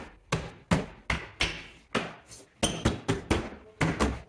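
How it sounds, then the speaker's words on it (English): Plastic clips on a 2012-2016 Subaru Impreza door panel are pressed into place one after another, each making a close, sharp knock or snap, about a dozen in a fairly steady rhythm. "snapping all of the plastic clips"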